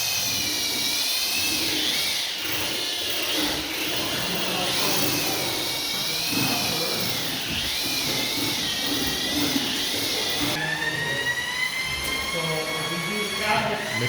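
A power mixer churns drywall compound during an interior bedroom rebuild, a steady continuous whirring drone running throughout, close and loud, with pitch shifts as the paddle works the mud.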